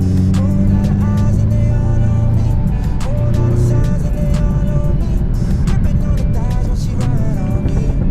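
A BMW F30 drifting into a corner, heard from inside the car: a loud, steady engine roar with shifting revs holds for the whole stretch, with no pauses.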